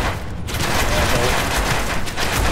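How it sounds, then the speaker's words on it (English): An M32 grenade launcher firing in The Division video game, with dense booming explosions and gunfire rumbling continuously, loud and close throughout. "It's an M32 grenade launcher."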